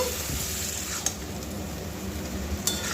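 Pui metuli greens, already fried and boiled, stirred into a spiced fish-head mixture in a pan, giving a faint continuous sizzle with soft scraping and two brief utensil clicks.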